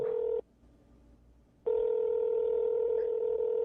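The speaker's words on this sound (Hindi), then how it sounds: "मुखिया जी लगावत है डीएम फोन लगावत था" A phone being dialed gives off steady electronic tones, one short tone, then a pause, then a longer sustained tone, heard clearly with no talk.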